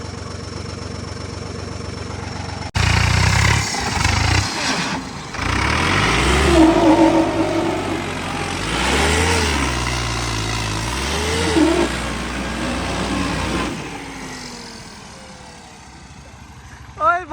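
A Farmtrac 60 tractor engine rumbles close by, rising and revving through the middle and then settling back to a lower idle, with people talking over it.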